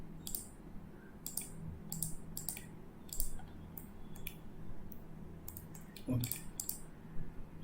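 Computer mouse clicks and keyboard presses while working in AutoCAD, a series of soft, sharp clicks at irregular intervals over a low background hum, with a brief spoken word.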